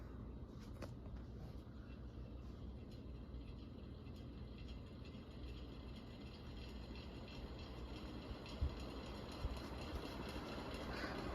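An SMC M48 48-inch industrial ceiling fan with worn-out bearings spins up from rest to high speed, giving a steady low rumbling whir with faint mechanical rattling and an odd soft knock near the end, fairly quiet.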